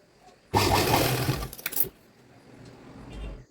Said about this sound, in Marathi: मी इलॅस्टिक एकदम व्यवस्थित लावून घेतलं त्यानंतर हिथंही अशी शिलाई घ्यायची